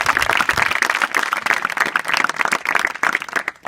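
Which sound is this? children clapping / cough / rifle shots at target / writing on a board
children clapping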